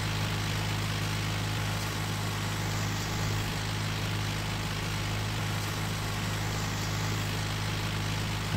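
A steady, low tractor engine droning in Farming Simulator 19 while working a field, a constant hum with an even tone throughout and no talking.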